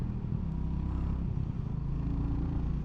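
A Royal Enfield Classic 350 single-cylinder motorcycle runs in fifth gear at low RPM, a steady, close, deep thumping engine rumble with wind noise and no talk.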